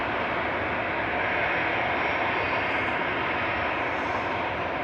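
A Ryanair Boeing 737-800 jet arriving from Dublin at Manchester Airport produces a steady, loud engine roar that holds constant for a few seconds with no talking over it.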